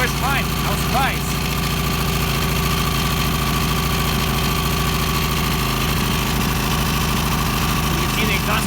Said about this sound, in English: It's not a quiet generator.